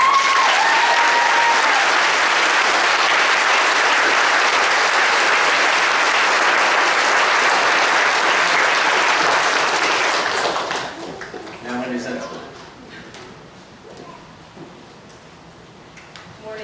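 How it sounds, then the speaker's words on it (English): Sustained audience applause at a church celebration honoring a pastor, loud and dense for about ten seconds before thinning out and fading, leaving scattered claps and faint murmuring. "once more we applaud not only Pastor Gary"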